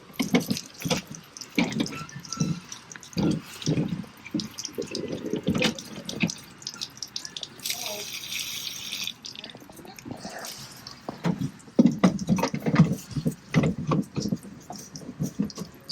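Water drains and splashes out of an emptied RV water filter housing, with irregular gurgling pours, drips and sloshes close by, pausing briefly before trickling on, with no speech.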